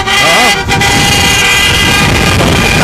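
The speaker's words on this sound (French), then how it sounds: "un klaxon vintage" Vintage car horn honking at a street counter-protest in Sherbrooke, loud and close over crowd noise and traffic, with a brief warbling blast near the start.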